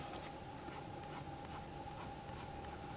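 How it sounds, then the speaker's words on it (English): A pencil outline rubbed out with an eraser on paper, steady faint scratchy rubbing strokes close by, alone, with a quiet background hum. "Make sure I erase more of the pencil"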